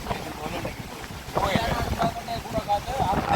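Steady wind buffets the microphone with a rough, fluttering roar, mixed with a fishing boat's rumble and water noise, under some voices, at sea off Karainagar, Jaffna, after heavy rain.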